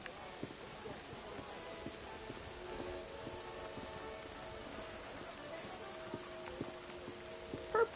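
Rain in the video game Assassin's Creed Syndicate, falling around a munitions factory as soft, steady patter on surfaces, with faint tonal game sounds threaded through and a few louder knocks at the end.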